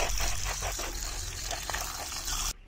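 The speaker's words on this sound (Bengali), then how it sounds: "সবজিগুলো আমার কাটা হয়ে গেছে, এবার আমি জল দিয়ে এটাকে ধুয়ে নেব" Chopped garden vegetables are rinsed under water while cooking khichuri outdoors, a steady trickling and splashing stream that runs loudly and evenly, then stops abruptly near the end, with no talking.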